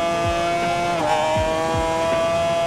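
A 1987 Suzuki RG500 two-stroke motorcycle in the racing game Ride 4 revs steadily and loud through a time attack, its engine note holding and rising with a few quick shifts, heard alone without talk.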